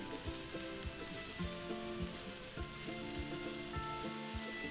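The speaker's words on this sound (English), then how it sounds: "Season with vegan oyster sauce, soy sauce, and give it a quick stir." Tofu stir-fries in a pan with vegan oyster sauce and soy sauce, a steady bright sizzle beneath repeated clinks and scrapes of stirring at a quick irregular rhythm, fairly quiet and without talking.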